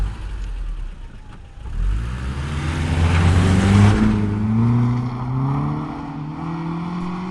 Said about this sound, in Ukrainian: Так, це звук автомобіля.